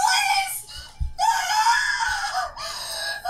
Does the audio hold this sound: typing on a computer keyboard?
no